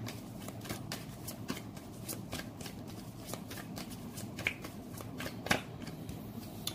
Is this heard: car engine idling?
no